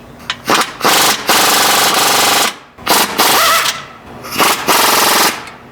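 Pneumatic impact wrench torquing wheel bolts on a 2017 Nissan Rogue, loud close rattling bursts of hammering in several long runs separated by short pauses, no talk.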